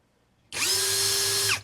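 A cordless drill starts abruptly and runs at a steady high-pitched whir for about a second before spinning down.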